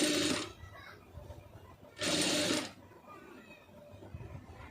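A sewing machine stitches a puff sleeve in two short, fairly loud bursts, each about half a second long, separated by a quiet pause with faint background noise.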